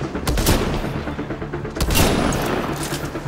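Gunfire erupts in the Mass Effect Andromeda video game, with loud, dense bursts of rapid shots in two clusters and booming impacts, close and continuous, with no talking.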